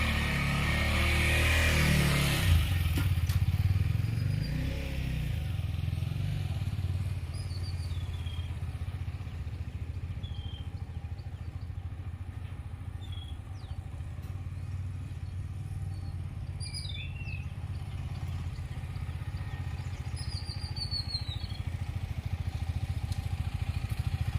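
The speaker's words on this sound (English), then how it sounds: "This bike has lot of torque, so without acceleration also it keeps on pulling." Adventure motorcycle engine idling and pulling at low revs during a slow U-turn, a steady low rumble throughout with faint scattered chirps in the background and a brief louder moment near the start.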